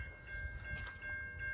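A long freight train rolls past on a railway, giving a steady, close rumble with a thin, constant metallic squeal running through it and no talking.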